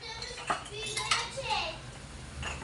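Dishes are being washed by hand, with close clinks and clatters of plates and cutlery at irregular intervals under running water and an occasional voice.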